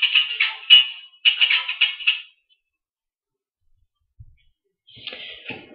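A phone rings indoors during a tarot reading, two bursts of bright warbling electronic tones from 0 to 2 seconds, then silence, a faint thump and a softer ring-like tone near the end.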